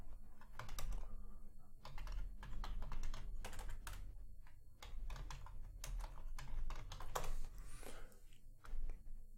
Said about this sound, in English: Gonna type in a comment here.